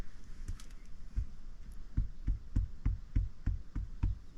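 Knuckles knock on wet, saturated sand at the bottom of an abandoned well, producing a steady series of dull, muffled thuds roughly three per second over a rumbling background.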